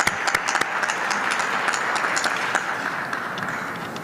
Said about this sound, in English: Another round of applause for that as well too.